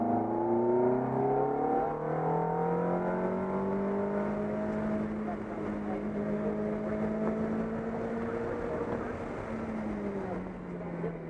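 Car engine note during an autocross run, a fairly quiet whirring drone whose pitch climbs and falls as the car accelerates and slows through the course, continuous for the whole stretch.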